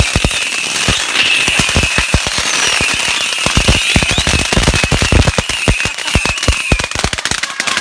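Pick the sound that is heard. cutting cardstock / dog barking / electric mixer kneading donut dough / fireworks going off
fireworks going off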